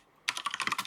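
Rapid keystrokes on a computer keyboard, a quick close run of about a dozen crisp clicks as a sudo command is typed for the Grey Hack game.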